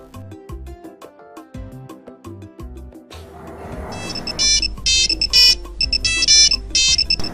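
A telephone ringtone plays loudly in a repeating melodic tone pattern, then continues with a busier, brighter burst of ringing tones over a low rumble.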